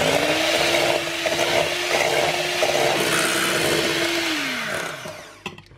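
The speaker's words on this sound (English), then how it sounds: "we're going to start by whisking a cup of cream until it's" An electric mixer whirs steadily at a constant pitch while whisking a cup of cream, loud and close, then winds down and stops near the end with a small clack.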